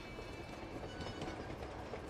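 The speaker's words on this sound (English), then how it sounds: "We got off the train." Steady, dense train rumble from Uncharted 2, a continuous rolling roar with faint clickety-clack texture, close and unbroken with no voices.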